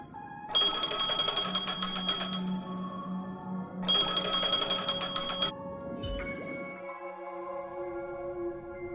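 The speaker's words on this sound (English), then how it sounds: "A phone." A phone rings in the game Honkai Star Rail: two bursts of bright, bell-like electronic trilling, each about two seconds long, over soft background music, followed by a short click and a low tone.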